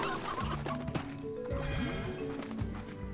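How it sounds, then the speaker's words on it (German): Chickens and roosters in the Slime Rancher game cluck and squawk in a busy, overlapping stream, with steady mid-pitched calls and game sounds layered beneath them and no talking over the top. "Also jetzt kriege ich gerade Hühner ohne Ende."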